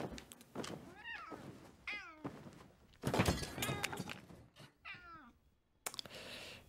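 Several distinct cat meows in the Grim Tales: Color of Fright horror puzzle game, rising and falling cries spaced over a few seconds with a soft thunk near the end, close and moderately loud with no talk.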